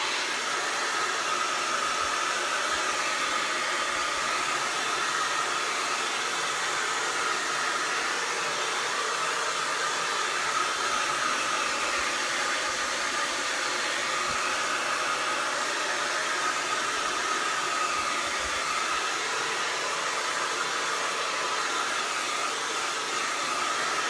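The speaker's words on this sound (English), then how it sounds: "let me dry it right quick." A hair dryer drying a coat of pink paint runs continuously at close range, a steady loud whooshing blow of air with no pauses and no talking.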